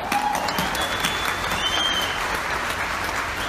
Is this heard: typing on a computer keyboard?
no